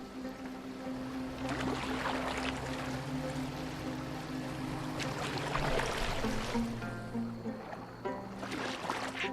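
A boat moves across water in Assassin's Creed Valhalla, with a steady wash of water and sloshing under a low droning score, continuous and moderately loud with no talking.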